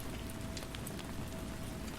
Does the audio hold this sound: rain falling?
yes